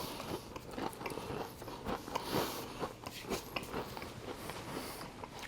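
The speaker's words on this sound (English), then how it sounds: "Let me take a bite of it for you, because it is" Biting into a crispy, flaky pastry, with a burst of close crunching and chewing that crackles steadily and loudly with no talk over it.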